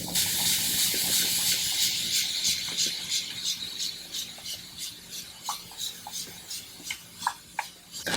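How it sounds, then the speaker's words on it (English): A spray bottle spritzes water onto a curly hair wig in a run of short hissing bursts. The pumps come close together and irregularly, each a brief sharp spray with soft rustling in between, and no one speaks. "Let's go ahead and wet this hair down because water is curly hair's best friend"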